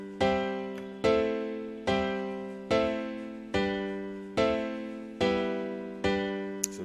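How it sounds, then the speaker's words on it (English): Piano sample from Expand layered with other instruments, striking a slow series of eight sustained chords that ring and decay evenly, close and alone. "I got a piano from Expand and I layered it with some other stuff"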